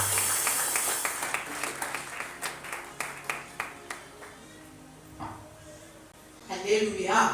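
A congregation at a church closing ceremony claps in a steady rhythmic beat for the Lord, with a dozen or so evenly spaced claps that fade before talking and a brief burst of voices follow.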